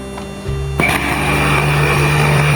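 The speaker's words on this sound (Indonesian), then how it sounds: "Setelah itu kita blender." A kitchen blender starts up on a potato and sausage batter for liquid donuts, its steady motor whine kicking in near one second and running loud and continuous to the end, with no talking.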